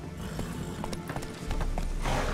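Roach the horse galloping in The Witcher 3: Wild Hunt, a quick rhythmic clip-clop of hooves with snorting, close and steady, growing louder toward the end.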